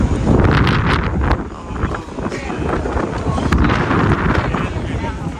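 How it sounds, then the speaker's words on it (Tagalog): Strong gusting wind at the Barangaroo waterfront in Sydney buffets the microphone with loud, continuous rumbling and roaring, rising and easing slightly throughout. "Malakas ang hangin."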